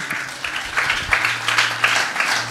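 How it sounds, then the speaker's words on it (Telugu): A church congregation claps loudly together, a dense run of handclaps with swelling bursts over a low steady hum, no talking. "గట్టిగా చప్పట్లు కొడదాం"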